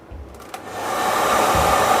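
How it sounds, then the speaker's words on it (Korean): A hair dryer switches on a short distance away and quickly rises to a steady, loud whooshing roar that holds to the end. "조금 멀리 드라이기 켜고"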